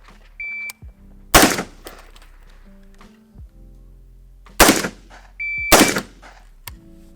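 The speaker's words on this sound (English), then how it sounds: "First one, 2 shots, standing to kneeling, followed by a control pair," An M16A4 rifle fired on a USMC Table 2 course of fire, moving from standing to kneeling: three loud, sharp, close shots spaced apart, with a few soft thuds and clicks between them.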